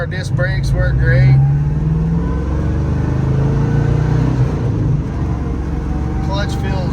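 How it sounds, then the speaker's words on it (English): A 1971 Ford Mustang Mach 1 with an M-code 351 V8 and four-speed pulls away on a drive, the engine rumbling loudly and rising in pitch as it accelerates, with someone talking briefly at the start and end. "We're just sitting here idling, so let's take it for a spin."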